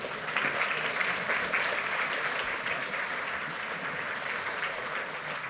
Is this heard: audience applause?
yes